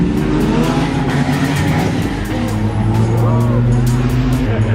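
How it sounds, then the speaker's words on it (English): At a car meet, a car's engine roars steadily while its tires spin in place, a loud sustained drone with rising tones and a squealing edge, people's voices faint underneath. "It was just spinning tire."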